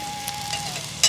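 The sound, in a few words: patties sizzling while frying in oil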